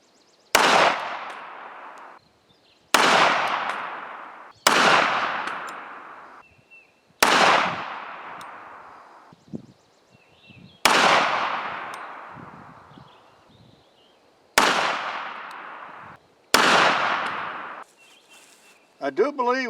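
Seven loud, sharp gunshots from a Remington 1911 R1 pistol chambered in 45 ACP firing mild target loads, spaced a couple of seconds apart, each with a ringing decay.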